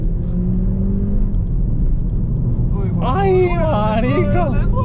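A modified Audi A3's engine rumbles low and steady, then revs up toward the end, partly buried under excited voices talking and shouting nearby.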